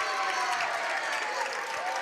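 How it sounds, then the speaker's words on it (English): Summertown fans at a girls' high school basketball game at Wayne County clap sarcastically after a foul call, a moderate wash of crowd applause in a gym, steady for about two seconds. "And Summertown fans with their sarcastic clap for a foul call."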